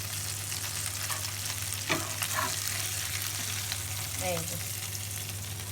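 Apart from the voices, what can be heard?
meat frying in a pan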